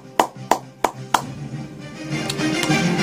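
A few sharp claps in a steady rhythm on a Korean current-affairs talk show, then fading into a soft murmur of voices.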